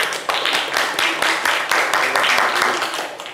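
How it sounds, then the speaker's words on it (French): Dense, steady applause from a radio show studio audience greeting a guest named Yao, loud and continuous throughout with no voices over it. "Applaudissements pour Yao, s'il vous plaît"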